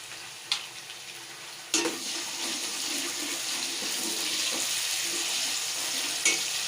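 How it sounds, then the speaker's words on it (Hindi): A paste of garlic, ginger and green chillies fries with half-browned onions for fish curry, making a continuous close sizzle in hot oil, broken by a few sharp clicks and stirring knocks. "अब मैं इसमें लहसुन, अदरक, हरी मिर्चें ये इसका पेस्ट बना के रखा ये ऐड कर रही हूँ।"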